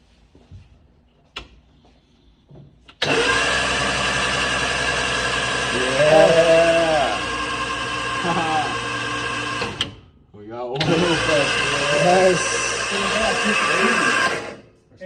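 The engine of an MG Midget under restoration is cranked to build oil pressure, with two long runs of steady, loud, whirring starter cranking and a brief pause between them, while people talk over it.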